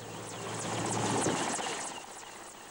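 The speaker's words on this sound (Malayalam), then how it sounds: "ഒരു ഹെലികോപ്റ്റർ വന്നുപോയതാണ്, ഒപ്പം പറന്നുപോയതാണ് ഇവിടെയുള്ള മേൽക്കൂരകൾ" A helicopter passes over houses, its broad rumbling rotor noise swelling to a peak midway and then fading as it moves off, with no voices.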